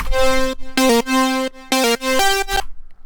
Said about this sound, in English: completely squash it and annihilate it with a fruity wave shaper. And that sounds like this.